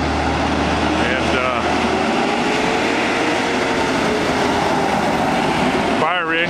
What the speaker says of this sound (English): fire engines are heading down Lower Crown Valley Road